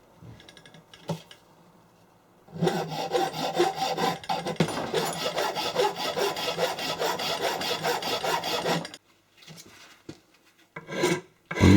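Steady rasping strokes of a half-round file working the concave surfaces of a cast metal handle, close and continuous for several seconds in a quiet room, with a few brief scrapes before and after.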